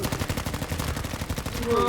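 Rapid automatic gunfire rattles continuously in Battlefield V, a fast, even burst of shots that stays loud throughout, with a player's voice faintly underneath.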